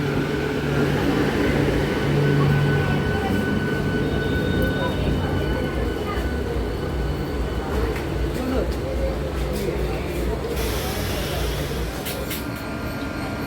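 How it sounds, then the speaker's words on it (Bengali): A local train running from Amta to Howrah rumbles steadily with a low, droning hum. The noise stays constant and fairly close for the whole stretch. "এই ট্রেনটা হাওড়া যাচ্ছে, আমতা থেকে হাওড়া যাচ্ছে"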